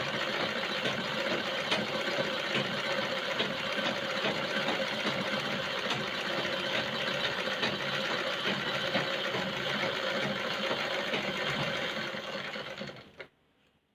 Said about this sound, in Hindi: अब मैं आपको स्टिच करके दिखा देती हूँ कि हमारा स्टिचिंग किस तरह से हो रहा है।